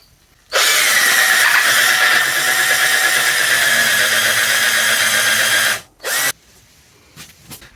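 A cheap Amazon drill drives a screw with a loud, steady motor whine that holds for about five seconds, then stops, gives one short burst, and falls quiet apart from faint clicks.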